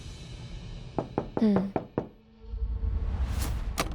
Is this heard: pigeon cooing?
no